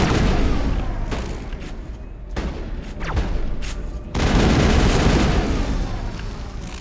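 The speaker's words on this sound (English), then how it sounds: "Switch to assault rifle actually." Assault rifle fire in the Mass Effect video game comes in loud, rapid bursts separated by short pauses, mixed with booming impacts and a dense battle din.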